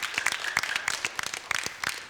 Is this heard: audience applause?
yes